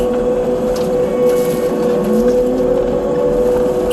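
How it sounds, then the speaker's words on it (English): A Rut Terminator brush cutter's small engine drones steadily and loudly up close while trimming field edges, its pitch holding even, running continuously. "this brush cutter does a pretty good job"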